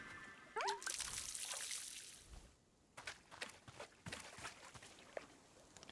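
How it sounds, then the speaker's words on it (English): In the Wanderstop video game, a watering can pours over a plant egg, giving a soft trickle and splash that fades, followed by faint scattered drips and taps at low level. "You have successfully watered the plant egg."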